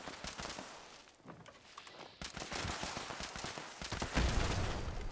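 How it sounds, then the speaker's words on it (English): Rapid gunfire in Fallout 76 crackles in dense bursts against ghouls, with volleys of sharp shots close together and a louder, heavier blast near the end, no voices over it. "I'm shooting him in the head there"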